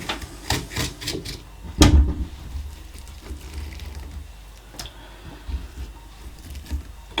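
A spoon or scraper rasps against the inside wall of a hollowed Halloween pumpkin, pulling loose stringy pulp, in a run of close rubbing strokes with one sharper knock partway through.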